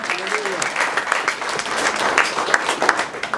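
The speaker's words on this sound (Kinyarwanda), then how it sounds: "Komera Imana amashyi menshi cyane." A church congregation breaks into loud, sustained applause during a worship service, dense clapping from many people filling the room throughout, with a voice briefly heard over it at the start.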